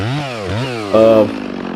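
A chainsaw cuts into a hollow, dirt-filled tree, its engine revving loud and close with rising and falling pitch before settling into a steady buzz.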